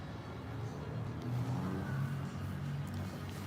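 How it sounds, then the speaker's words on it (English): Car engine running steadily in the video game S.T.A.L.K.E.R., a low continuous rumbling drone with slight swells in revving, heard alone without speech. "I think I still hear the blue car or some engine sounds"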